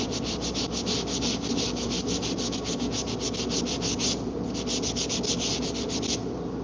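Hand sanding rubs out faded body filler on a Q50 twin-turbo car panel before priming, a steady rhythmic scraping of rapid back-and-forth strokes, loud and close, continuing without pause except one brief break.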